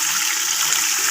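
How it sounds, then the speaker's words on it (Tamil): Oil poured into a cooking pot while making vankozhi biriyani, with whole spices already added, producing a steady, close, bright hissing and sizzling that holds evenly throughout. "எண்ணெய் ஊற்றி போட்டுக்கோங்க."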